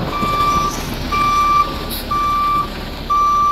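A truck's reversing alarm beeps in a steady rhythm, four long evenly spaced tones close by over a low background rumble, with no talking.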